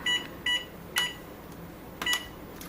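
A kitchen timer being set for a refrigerated dessert: a handful of short, bright electronic beeps spaced irregularly, close and moderately loud in a quiet room.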